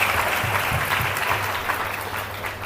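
A church congregation claps together during a Hindi sermon, a dense and steady patter of many hands throughout, fairly loud and close with a faint murmur behind it.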